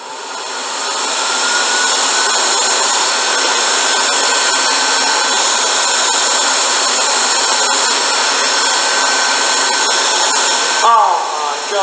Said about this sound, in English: Here is a review of an unbranded hand dryer.